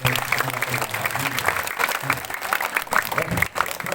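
Audience applause at a Balinese bondres comedy performance during a temple ceremony at Pura Penataran Bale Agung, steady clapping throughout with overlapping voices and music.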